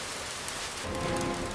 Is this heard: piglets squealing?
no